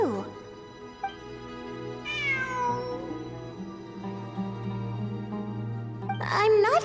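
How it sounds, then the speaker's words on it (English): A cat meows in the Genshin Impact video game: one high rising meow in the middle, then another at the end, over steady background music. "It really is a cat."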